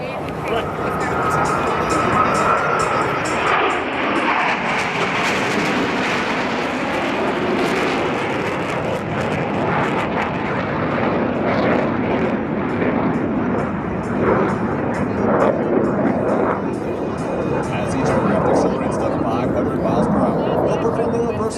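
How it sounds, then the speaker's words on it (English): Three Corsair aircraft fly low in formation at an airshow in New Orleans, converging and breaking into turns. A loud, continuous engine roar fills the whole stretch, with a voice talking over it. "all three aircraft converge on center point with maximum closure and minimum separation"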